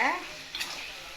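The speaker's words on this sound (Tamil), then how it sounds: "உப்பு போட்டுட்டு நல்லா கிண்டி விடுங்க." A spoon scrapes and stirs through a pot of simmering vendhaya kulambu, a fenugreek curry, with a soft sizzle and a couple of brief metallic clinks.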